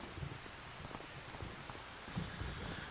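Steady rain falls in the Farming Simulator 25 farming game, a dense, even patter of drops that holds at a constant moderate level throughout, with no voices over it.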